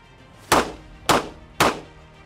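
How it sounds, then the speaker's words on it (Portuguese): Three sharp gunshots fired at a target on a shooting range ring out about half a second apart, each a loud close crack with a brief decaying tail. "Os disparos foram lá no alvo."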